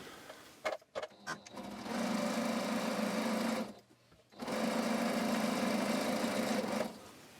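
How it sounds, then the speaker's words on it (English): Sewing machine stitching a welt to pocket bag fabric on a half-inch seam, running in two steady sustained bursts separated by a short pause and brief start-stop clicks, close and alone without talk. "we're just going to stitch these two together on a 1/2 inch seam allowance right here"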